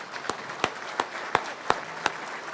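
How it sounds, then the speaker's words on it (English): Evenly spaced claps ring out at an award ceremony for public safety workers, a steady, moderately loud beat of single hand claps over a faint room background. "let's give everybody a round of applause,"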